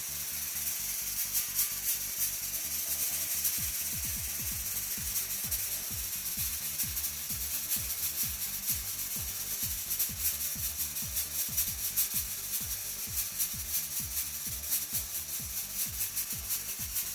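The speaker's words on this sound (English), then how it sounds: "this is the noise they make" A Halloween fog machine sprays fog in a steady, quiet hiss, accompanied by a rapid low mechanical pulsing from its pump that continues throughout.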